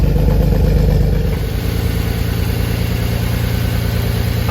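Jaguar V12 XJS engine idling close by with a misfire, a dense steady low rumble with an uneven pulsing beat that settles after the first second, running alone without talk.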